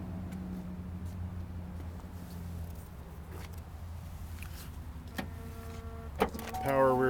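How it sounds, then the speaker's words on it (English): A power rear liftgate on a 2008 Chevrolet Suburban with the Z71 off-road package runs on its electric motor, a steady low hum throughout, with a few clicks and a rising whine near the end. "Power rear liftgate."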